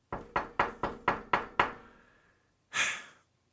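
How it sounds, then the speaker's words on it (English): Seven sharp, evenly spaced knocks rapped on a window, close and loud, followed after a short pause by a soft breathy exhale or sigh. "I know somebody's knocking on my window."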